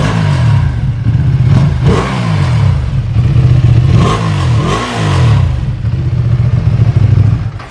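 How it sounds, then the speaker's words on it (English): Ducati Panigale V2 motorcycle on its stock exhaust, revved repeatedly while standing, with several sharp throttle blips rising and falling over a steady, loud idle close to the microphone. "since this is gonna be the last time we hear the stock exhaust, I figured let's give you a rev"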